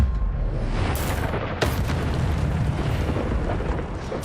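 Incendio fire spell cast in Hogwarts Legacy, a loud roaring burst of flame with sharp crackling impacts near the start, then a sustained rumbling whoosh that stays full and close throughout.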